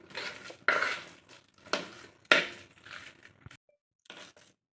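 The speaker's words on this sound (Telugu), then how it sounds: "నేనైతే పప్పు బాగా ఉడికిపోయింది కాబట్టి స్పూన్తో ఇలా స్మాష్ చేసేస్తున్నాను." Boiled chana dal being mashed with a spoon in a pot while making bobbatlu, giving several sharp scraping, clinking strokes of metal against the vessel, each fading quickly, close and fairly loud with short pauses between.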